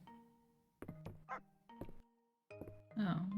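A dog barking in the farming game Fields of Mistria, a few short yips and barks separated by pauses, close and clear, ending with a longer whimpering sound, and a voice talks briefly.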